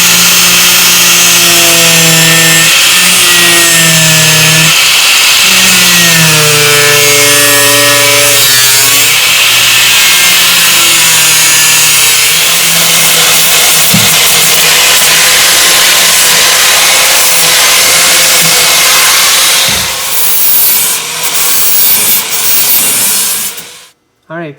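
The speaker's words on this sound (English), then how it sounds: "so I'm gonna go ahead and cut that open." A loud power tool grinds and whines continuously through the sheet-metal body of a VW Bus, its pitch rising and falling as it cuts, then stops abruptly near the end.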